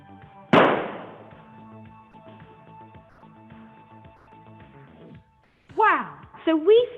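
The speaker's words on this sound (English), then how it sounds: "we created a huge explosion at the bottom of our rocket" A hydrogen and oxygen mixture ignites inside a tube rocket with one sudden loud bang, followed by a fading ring. Excited children's voices rise soon after.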